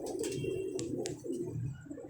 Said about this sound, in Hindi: ये सियालकोटिया एक कबूतर आया है इनके पास